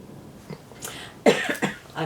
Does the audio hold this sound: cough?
yes